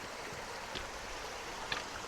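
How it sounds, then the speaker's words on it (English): Water from a waterfall and stream near Fox's Tarn in the Lake District rushes in a steady, full, broadband wash, with two brief splashy accents along the way. "atmospheric waterfall"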